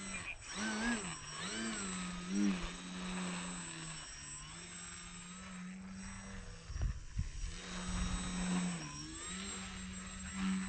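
A Bayer Model 32-inch Laser model plane flies in wind, its small engine whining continuously and shifting pitch as it maneuvers, a steady buzz with a few brief thumps and wind gusts.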